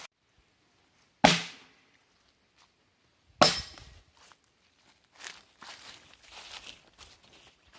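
A throwing knife strikes a target twice, two sharp, loud impacts a couple of seconds apart, followed by softer scuffing and movement sounds.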